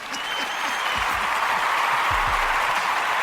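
A crowd applauds steadily throughout, a dense continuous wash of clapping heard from a moderate distance, with faint voices mixed in beneath it.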